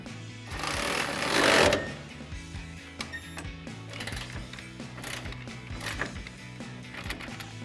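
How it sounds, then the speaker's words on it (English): A ratchet wrench with a 14mm socket tightens a bolt on a 2019-2023 RAM 1500 suspension lift kit install, giving a run of quick close clicking strokes after a louder mechanical burst at the start, with no talk. "I'll take my 14mm socket on my ratchet here and tighten it down"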